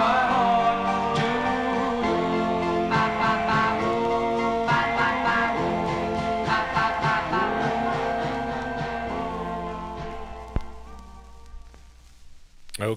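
Doo-wop 45, a pre-1964 vinyl record, plays steadily with voices over backing instruments before fading out near the end.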